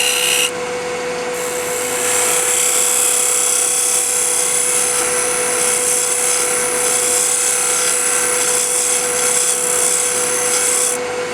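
A scraper on a wood lathe works a spinning peppermill blank, giving a continuous close rasping hiss over the lathe's steady whine.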